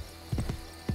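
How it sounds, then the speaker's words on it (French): Horse hooves in the video game Assassin's Creed Brotherhood near the Colosseum in Rome, two short clusters of clip-clop footfalls at moderate loudness with a gap between them and no speech. "Mon cheval va bien."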